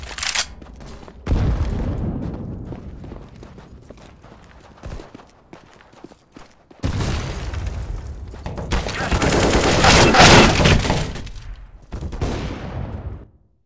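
Gunfire and a grenade in the online shooter CS:GO, with bursts of rapid shots and a loud sustained blast-like roar in the middle, separated by quieter stretches of footsteps and movement.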